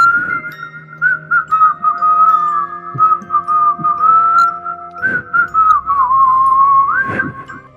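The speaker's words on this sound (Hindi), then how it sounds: "सीटी बहुत अच्छी बजाते हो तुम।" A person whistles a tune with a clear, close, bright tone, holding a wavering melody with short pauses between phrases and rising toward the end.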